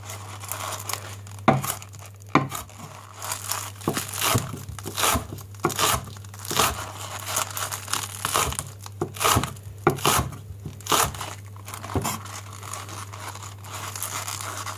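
A knife chops onions on a cutting board for potato salad, giving a series of sharp, irregular close-up cuts and crunches over a steady low hum.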